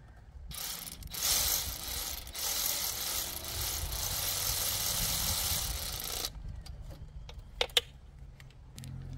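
A ratchet wrench fitting spark plugs into a car engine, a steady fast clicking run for several seconds, then a few sharp isolated clicks and taps, with no talking.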